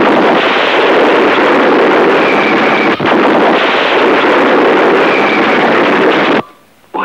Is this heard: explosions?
yes